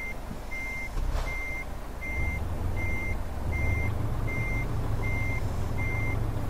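Steady intermittent reversing beeps from a truck backing a trailer in Euro Truck Simulator 2, about ten evenly spaced tones over a continuous low engine rumble that swells slightly partway through.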